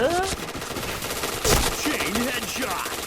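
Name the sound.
APC9 gun firing in the video game Point Blank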